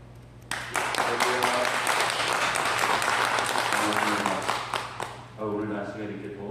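Audience applause welcomes a pastor at a Korean church service, a dense wash of clapping that swells for several seconds and fades, with a speaking voice and a steady hum underneath near the end.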